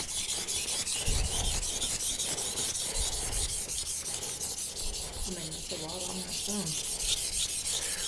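Kitchen knife sharpened on a 1K whetstone, steady back-and-forth rasping strokes repeating in a brisk rhythm, close and fairly loud, with a few soft thumps and a brief faint squeak partway through.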